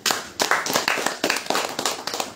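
Rhythmic hand clapping from an audience during an Islamic religious study session, a series of fairly loud, sharp claps in an irregular cluster with no talking.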